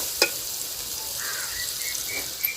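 Yogurt added to egg biryani masala in a hot pan, giving a steady, soft sizzle and frying hiss with a few faint scrapes and ticks.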